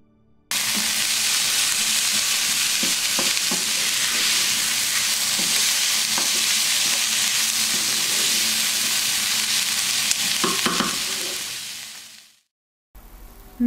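Tofu frying over low heat and being stirred in a pan: a loud, continuous close sizzle with occasional scraping knocks of the stirring utensil, fading out near the end.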